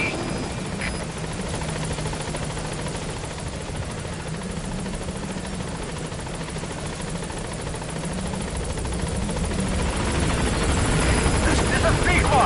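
The Pequod helicopter from Metal Gear Solid V: The Phantom Pain approaches on a steady rotor drone with a low thrumming hum, slowly swelling louder toward the end; radio-style voice chatter runs over it.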